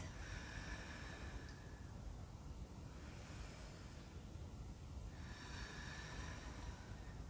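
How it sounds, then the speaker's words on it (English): Slow, deep breaths drawn in and let out through the nose during a beginners' yoga session, soft airy swells rising and falling in long cycles, close and steady. "Two more deep breaths in through the nose and out through the nose"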